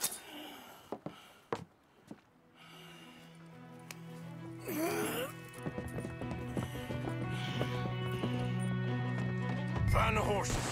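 Horses in Red Dead Redemption 2 at a game scene: hooves clip-clop in a few sharp beats, then a horse whinnies, and later a second whinny comes through under steady speech and a background music score.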